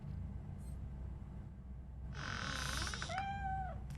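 A cat meows in Robocop: Rogue City, with a rising and falling tonal call followed by a shorter high mew, heard clearly over a low ambient hum.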